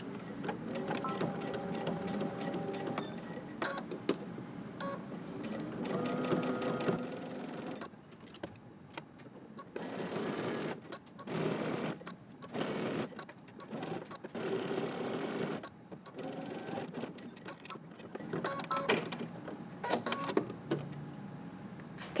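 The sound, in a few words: sewing machine stitching a neckline seam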